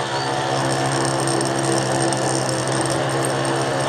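A Nichols horizontal mill cuts a slot in metal, giving a loud, continuous mechanical grinding hum with steady chatter throughout.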